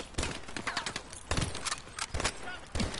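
Rapid gunfire in Call of Duty: Advanced Warfare campaign combat, loud clustered bursts of shots in quick succession, fairly close, with a little speech in the background.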